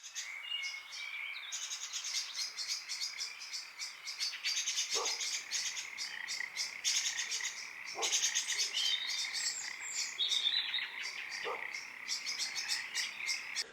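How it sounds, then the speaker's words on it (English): Looping birdsong bed for a Viking Village game soundscape built in FMOD for Unity: dense, steady high chirps and calls with croaking frog-like tones underneath, plus a few brief low thumps, no voices. "we have the birds, which is basically just a bed for the soundscape"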